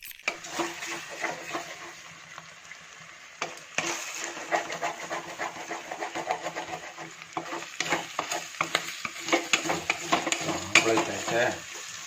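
Fried rice being stirred with eggs in a pan, with repeated scraping and clinking of a utensil against the metal over a continuous sizzle, growing busier toward the end.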